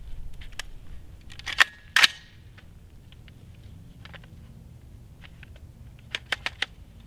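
Rifle rounds being dumped out of a Magpul D60 drum magazine, producing brief bursts of sharp metallic clicks and rattles at close range with quiet gaps between them, no talking.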